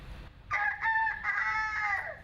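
A contestant imitates a chicken's cluck at a chicken-clucking contest, a loud, close, warbling series of clucks and squawks that rises, breaks briefly and then trails off, with no one talking over it.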